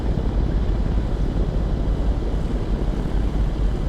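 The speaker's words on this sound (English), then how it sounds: "I got my Sound Max on so you can hear the sounds of the airport" Simulated Zenair kit plane and airport ambience at KAWO Arlington in X-Plane 11, a loud, steady broadband engine and propeller drone with a wind-like rush, continuous with no talk.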